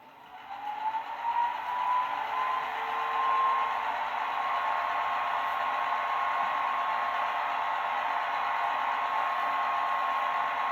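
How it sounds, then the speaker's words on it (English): An HO scale Walthers Proto Budd Metroliner model train with DCC sound runs its startup sequence: a motor spins up over the first seconds into a steady, even whine with a rising tone that holds. "So there's the startup sequence. Just kind of sounds like the motor spinning up here."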